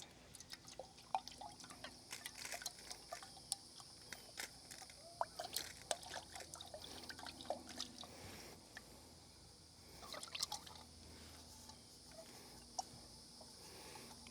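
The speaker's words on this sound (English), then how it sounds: "Slosh it around." Water splashes and sloshes around in a small hot cup, with scattered drips and light trickling sounds, close up and fairly quiet.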